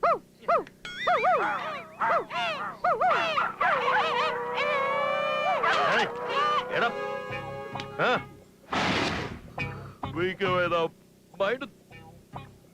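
Dogs barking and howling at midnight, a run of loud close yelps and wavering howls, partly overlapped by a voice imitating the barking, with talk toward the end.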